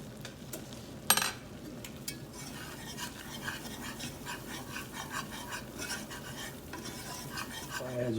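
A whisk stirs a butter and flour roux for giblet gravy in a pan, giving a steady close scraping and swishing over a soft bubbling sizzle, with one sharper clink of metal near the start.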